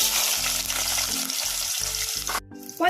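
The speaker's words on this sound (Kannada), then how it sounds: "ಈಗ ಈರುಳ್ಳಿ 1 ಕಪ್ ಹಾಕೋತಾ ಇದೀನಿ." Onion going into hot oil with mustard seeds in a pan for mutton biryani, a continuous close frying hiss broken by a few low rhythmic hums, ending in a brief sharp burst.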